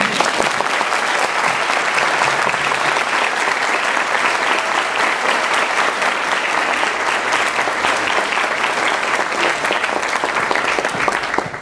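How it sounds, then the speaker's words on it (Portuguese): Sustained, even applause from an audience closing a debate, dense clapping held at a steady level for about twelve seconds with no break. "eu gostaria que a gente se saudasse com uma salva de palmas, fechando esse debate"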